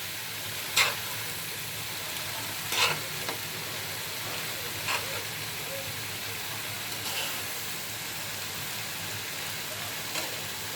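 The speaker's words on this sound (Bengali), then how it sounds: "এখন হচ্ছে আমি এগুলো নেড়ে চেড়ে দিই।" Jackfruit curry frying in a pan, a soft continuous sizzle with a few light clinks of a spoon stirring, fairly quiet and with no talk.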